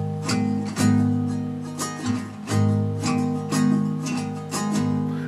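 An acoustic guitar strums the rhythm pattern of a Hindi song on open chords, with crisp, evenly spaced down and up strokes ringing close and clear, no voice over it.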